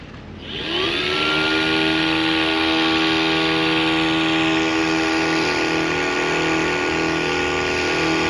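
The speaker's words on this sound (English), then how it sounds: "So you can see it sounds a bit like a 6M blower in that." A Thunderbolt 1000X engine simulator produces a supercharger-style blower whine that rises quickly in the first second, then holds as a loud, steady, tonal drone with layered harmonics, heard alone.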